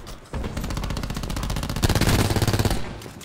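A Spitfire automatic weapon in Call of Duty Black Ops 4 fires a long, fast, evenly spaced stream of shots, loud and up close, with a heavier stretch of rounds toward the end before the burst stops.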